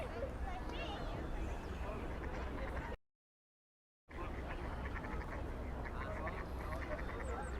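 Ducks quack repeatedly in Central Park, New York, amid a dense, steady outdoor din, with a brief dropout to silence partway through.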